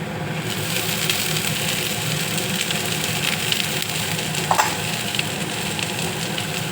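Green beans hitting onions frying in a pan for a Maharashtrian bhaji, a close, moderate sizzle that crackles steadily with a few sharper pops and stirring clicks.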